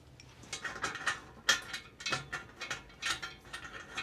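Bolts being tightened on a metal grow light frame give a quick run of ratcheting clicks and small metallic taps, fairly close and unbroken by talk.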